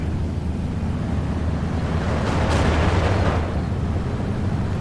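Off-map artillery explosions in the Steel Division war game, a deep continuous rumble with a swelling burst in the middle, loud and heavy, with no voices.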